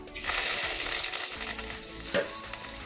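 Curry leaves crackle and sizzle loudly in hot oil, a constant close hiss with a sharper pop partway through.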